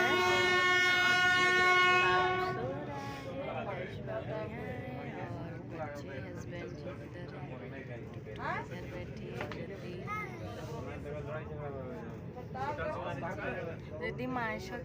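Inside a passenger train on an early morning journey, a loud horn blast opens, then a steady rumbling ride noise with clattering continues throughout, with people talking over it.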